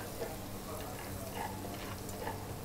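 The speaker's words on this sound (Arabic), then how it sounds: "ذابت الزبدة." Melted butter sizzling in a pan, a soft, steady frying hiss with faint ticks, heard close and quiet throughout.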